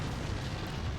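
Explosions and artillery fire in the physics-based fort-building game Forts, a dense continuous roar of blasts and booms, loud and unbroken for about a second.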